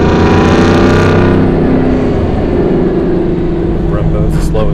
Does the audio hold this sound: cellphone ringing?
no